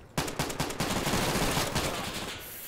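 Rapid bursts of automatic gunfire crackle in the tactical shooter Insurgency, loud and sustained for nearly three seconds with dense overlapping shots and no talking.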